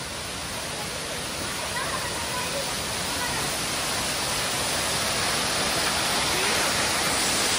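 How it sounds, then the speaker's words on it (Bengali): Bamni waterfall in Purulia pours down in a dense, constant roar of falling water, loud and steady, growing slightly louder over the stretch, with no other sounds breaking through. "আর সাথে কত বড় এই বামনি ওয়াটারফলসটা, সেই ওই মাথা থেকে জলটা নামছে"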